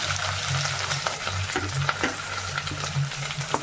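Okra, onion, curry leaves and green chili fry in a hot pan, a loud, close sizzle broken by scraping stirs and light clinks at an irregular pace.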